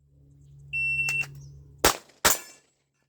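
A high, steady electronic beep from an SG 2 shot timer in a practice session, followed about a second later by two loud, close gunshots fired in quick succession.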